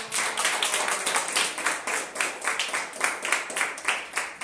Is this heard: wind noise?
no